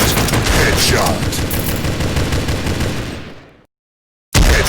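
Shotgun blasts in a video game, a dense run of loud booming shots that tails off into sudden silence before another blast cuts in, with a voice talking over it.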